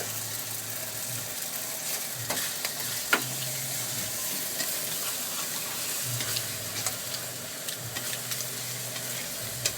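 Korat rice noodles stir-fried with meat and seasoning in a hot pan, a loud, steady close-up sizzle broken by scraping stirs and a few sharp utensil knocks over a low background hum.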